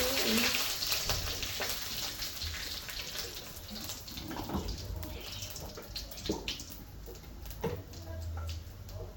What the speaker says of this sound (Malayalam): കടുക് ഇട്ട് കഴിഞ്ഞാൽ പിന്നെ കറിവേപ്പിലേക്ക് വെക്കാം